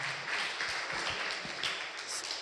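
Moderate, fairly quiet clapping from an audience at an Islamic student discussion forum, a continuous patter of hands lasting a couple of seconds without talk.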